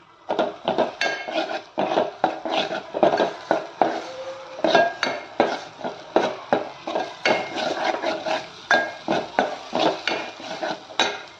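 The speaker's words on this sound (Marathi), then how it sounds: "आता छान परतून घ्यायचं आहे आपल्याला." Food being sautéed and stirred in a pan for a sprouted horse gram curry, with steady clinks and scrapes of a utensil against the cookware, close and fairly loud, with no talking.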